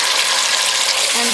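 Ginger, garlic and garam masala fry in a pot for biryani, giving a loud, steady, close sizzle throughout with no break.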